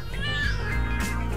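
Cat meowing in the Lego City Undercover video game, a single drawn-out, fairly loud meow with a rising and falling pitch, heard alone over faint background sound.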